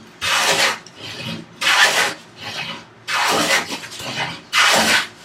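A hand plane is pushed in long passes across a wooden workbench top, giving four loud, close shearing swishes, each about a second long, separated by brief quiet returns.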